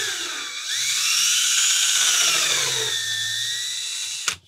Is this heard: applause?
no